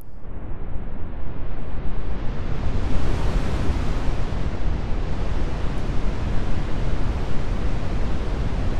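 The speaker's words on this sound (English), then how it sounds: "it starts sounding like wind blowing at the full setting" Airwindows DarkNoise audio plugin producing broadband noise at its full setting that resembles steady blowing wind, a continuous dense rush with slight swells, alone and fairly loud throughout.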